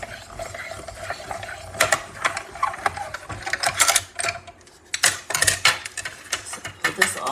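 A hand-cranked die-cutting machine feeding paper through its rollers, giving close, rhythmic mechanical clicking and grinding in bursts against a steady noisy background.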